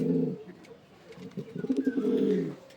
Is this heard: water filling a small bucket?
no